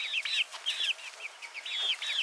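A chicken on a small ranch clucks and chirps softly in quick, high, repeated notes, close by and steady throughout, with no talking over it.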